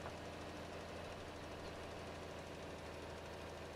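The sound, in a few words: old tractor engine running in Farming Simulator 22 video game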